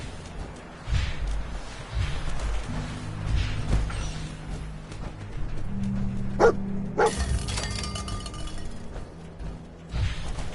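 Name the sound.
dog barking in Fallout 4 video game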